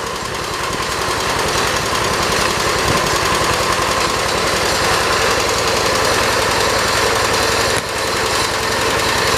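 A 1977 John Deere 212 lawn tractor engine runs steadily and loud, a dense rapid chugging close by that keeps up the whole time with a brief dip near the end.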